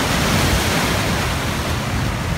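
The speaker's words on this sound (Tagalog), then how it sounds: "Sarap pakinggan ng alon, ma-relax." Ocean waves near the Manila Yacht Club make a dense, constant wash of surf, loud and close, with no distinct breaks and no voices.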